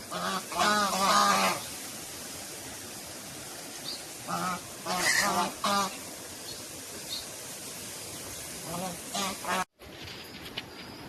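Two female white ducks call out in loud, honking bursts, several clustered calls rising over a steady outdoor background with quieter gaps between them.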